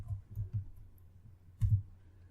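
Soft, sparse clicks of computer keys being typed, a few quick taps in small bursts, faint and close in an otherwise quiet room.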